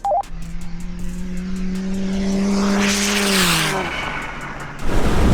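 A tuned 500 bhp 1.9 TDI diesel Seat Ibiza and a 500 bhp BMW 330d launch together, engines droning steadily as pitch climbs and drops at a gear change, followed by a louder burst of noise.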